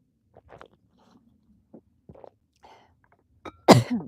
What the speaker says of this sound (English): Sorry, didn't mean to cough on you guys.